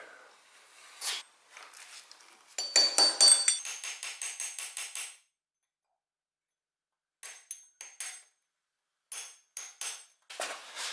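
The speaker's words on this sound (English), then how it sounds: "we're just gonna bend the tabs up on the washer on both sides" Lock washer tabs being bent against the sprocket nut of a BMW S1000RR sport bike: sharp metallic hammer taps in quick clusters, a rapid ringing burst in the middle, then a silent gap and several more spaced strikes, close and alone.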